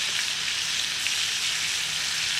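Deer meat deep frying in hot oil gives a loud, steady, close sizzle that holds evenly with no pauses and no voices over it.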